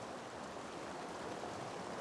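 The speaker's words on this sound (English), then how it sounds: "Itatiaia is a tangle of fountains and waterfalls that are kept in perfect condition." A stream and waterfalls in the Poranga Valley at Itatiaia give a soft, steady, even rush of flowing water with no breaks, faint and distant.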